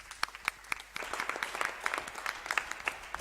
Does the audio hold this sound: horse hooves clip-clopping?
no